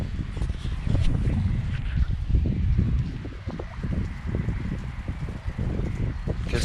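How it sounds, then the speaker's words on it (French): Strong, icy wind at night buffets the microphone in a continuous low rumble with gusty swells and faint rustling, no voices. "Il y a un vent glacial."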